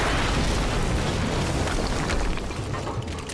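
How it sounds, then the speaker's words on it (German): A loud, broad rumbling roar from an explosion in the video game Quantum Break sustains and slowly fades, with no one speaking. "es gab gerade eine Explosion in der Nähe der Gewinnungsanlage"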